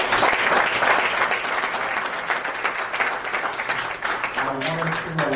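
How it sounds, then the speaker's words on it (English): An audience at a small-room business meetup breaks into loud, dense applause that continues steadily for several seconds, with a few voices mixed in. "Clap it up one more time."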